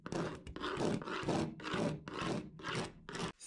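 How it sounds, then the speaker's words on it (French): A utility knife or screwdriver scrapes across OSB board in about six rhythmic strokes, each a close, dry, rasping rub with brief pauses between, with no talking. "gratter l'OSB au cutter ou au tournevis pour aider la colle à mieux adhérer au bois"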